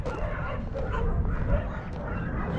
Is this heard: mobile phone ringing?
no